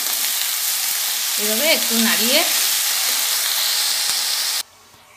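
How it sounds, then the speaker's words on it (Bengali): Pumpkin leaves sizzle loudly in a hot pan while being stirred for a pea dal, a constant close frying hiss with a brief spoken phrase partway through, ending suddenly. "এই কুমড়ো পাতাগুলো এর মধ্যে একটু দিয়ে দিলাম, দিয়ে একটু নাড়িয়ে নিচ্ছি।"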